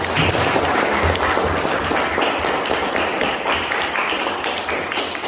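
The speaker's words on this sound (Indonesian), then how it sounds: "tepuk tangan dulu untuk kita semua" A high school class claps together after finishing group presentations. The sustained, loud applause is close and continuous throughout, with a light voice faintly underneath.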